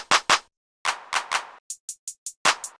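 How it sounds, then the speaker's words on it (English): Sharp, punchy clap hits in a beat pattern, some fuller and some thinner and brighter, spaced in quick rhythmic groups with short silences between. "Then we have this clap, which is made up of two different claps."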